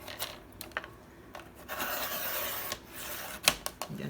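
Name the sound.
cutting a paper strip for a junk journal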